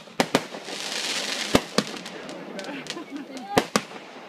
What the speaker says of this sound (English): Everybody's running out their door saying, I thought the fireworks were Saturday.